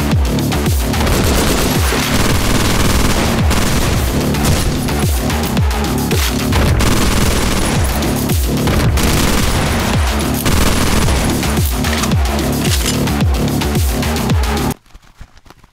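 Rapid gunfire from snipers and other weapons in the top-down shooter OTXO, loud and continuous with dense bursts of shots and booms for about fifteen seconds before cutting off abruptly.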